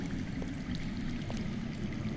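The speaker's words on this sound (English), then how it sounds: "I hear water. From underground." Underground water runs steadily in the Game of Thrones video game, a faint continuous trickling stream with no voices over it.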